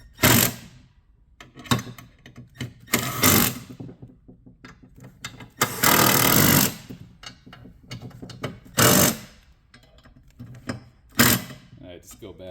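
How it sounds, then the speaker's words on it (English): Quarter-inch impact driver running bolts tight on a belt grinder during assembly, heard as several short loud bursts of rapid hammering spaced a few seconds apart, with quieter handling clatter between them. "to save your wrists, usually revert to the 1/4 inch impact here."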